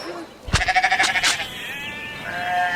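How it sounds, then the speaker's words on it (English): Sheep in a farm flock at River Cottage let out one loud, wavering bleat close by, followed by softer, fainter bleating from farther off. "I first introduced a flock of sheep to River Cottage at the beginning of last year."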